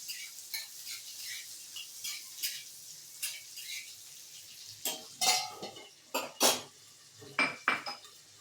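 Amaranth stem chutney with green chillies being stirred in a pot, a spoon scraping and clinking against the metal in repeated short strokes that grow louder and sharper toward the end over a faint sizzle.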